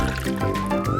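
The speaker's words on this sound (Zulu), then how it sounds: "Okokuqala, asifake amanzi esitsheni." Water poured into a container, a steady gurgling, filling stream with a rising pitch near the end, heard alone for about a second.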